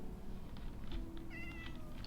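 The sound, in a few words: cat meowing in the video game Minecraft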